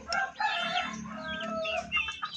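A hen clucks and cackles loudly and nearby in a rapid, uneven series of calls after laying her first egg.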